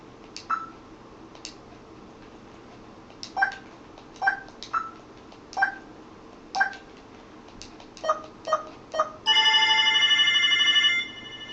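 Video phone in the Sega CD game Snatcher ringing: a run of short, bright electronic chirps repeating at an uneven pace, then a sustained buzzy tone near the end, with no voices.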